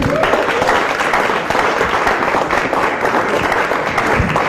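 Loud, sustained applause from a comedy club audience welcoming a comedian to the stage, a dense steady wash of clapping with crowd noise throughout.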